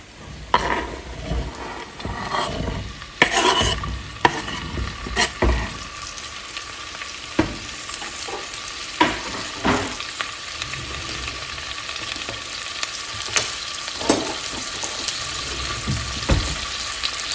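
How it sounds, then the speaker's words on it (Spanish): Longaniza sausage frying in a splash of oil in a pot sizzles steadily and close up, with scattered crackles, pops and a few scraping stirs throughout, and no talk over it. "Necesito que se empiece a freír y que empiece a sacar la grasita."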